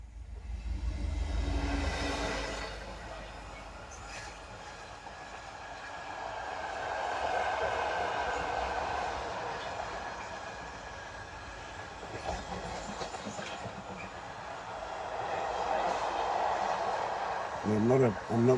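A train runs along the main north-south London line, its rumble and clickety-clack rising and falling in waves as cars roll by at moderate distance, with a brief wheel squeal near the end.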